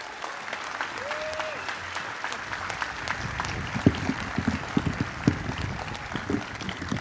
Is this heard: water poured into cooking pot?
no